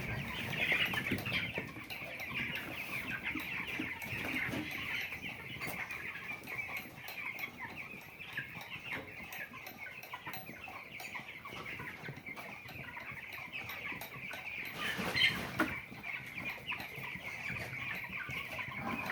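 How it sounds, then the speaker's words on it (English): Cornish rock cross broiler chickens in a pasture brooder house, a steady busy chorus of clucking and peeping from many birds with occasional wing flapping and one louder burst, continuous, no talking. "These are Cornish rock cross broiler chickens,"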